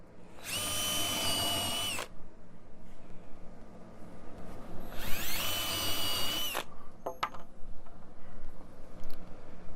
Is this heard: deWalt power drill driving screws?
yes